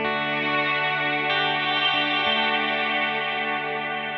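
A Line 6 HX Stomp ambient reverb, set fully wet on a parallel path ahead of a second reverb, spreads a sustained chord into a lush, shimmering wash with long decaying harmonic layers, loud and steady, no voices.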